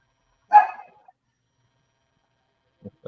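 A dog barks at a fire truck passing on a highway. One clear bark sounds at moderate distance, then two short, muffled thumps follow after a pause.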